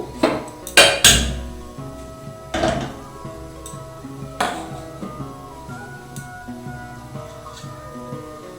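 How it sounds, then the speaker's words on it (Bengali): Metal wok clanks and knocks against a gas stovetop, several sharp clattering hits early on, then quieter scattered kitchen clinks. "গ্যাসটা অন করে কড়াইটা বসাবো"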